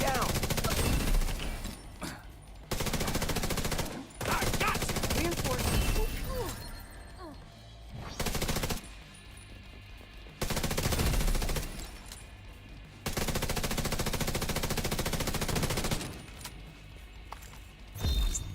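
Unsuppressed Ruthless rifle fire in The Division comes in loud repeated bursts with short gaps between them, while someone talks over and between the shots.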